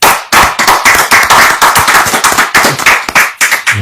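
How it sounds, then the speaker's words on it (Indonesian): Audience applause greeting a guest history professor arriving on a talk show: dense, loud clapping from a crowd, steady and continuous for about four seconds with no speech over it. "Tepuk tangan buat Profesor Anhar Gonggong."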